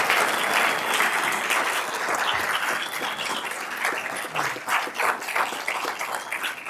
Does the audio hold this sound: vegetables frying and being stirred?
no